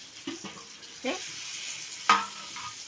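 Brinjal paste frying and being stirred in a pan, soft sizzling with a few scraping stir strokes and clinks, fairly quiet and close.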